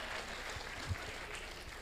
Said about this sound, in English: huge round of applause. Please encourage Satyajit.